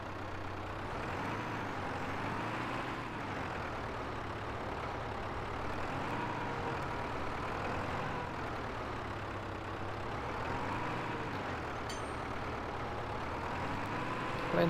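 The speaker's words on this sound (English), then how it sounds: "Then we can jump into the tractor." A tractor engine runs at a steady, moderately loud drone with a gentle rhythmic rise and fall, heard from inside or close to the cab on a farm, with no talking over it.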